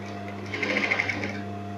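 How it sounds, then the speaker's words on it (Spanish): Sewing machine stitching close along the hem of jeans denim, a brief steady whir with a faint rhythmic needle clatter swelling in the middle, close and moderately quiet, with no talk. "vamos cosiendo al ras del dobladillo"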